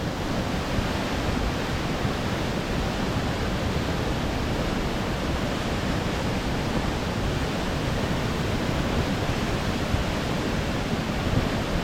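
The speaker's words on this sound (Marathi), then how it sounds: "भरपूर भरपूर प्रेशर आहे पाण्याला" Steady, dense rushing of a fast-flowing river under strong pressure fills the whole clip, a constant loud roar with no pauses or voices.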